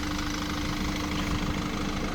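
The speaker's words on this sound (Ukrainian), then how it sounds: "Зараз вам ще покажу, як повинен працювати мотор." A Renault Master van's engine idles with the hood open, a steady close mechanical hum and low rumble with a faint tonal whine, even and unbroken throughout.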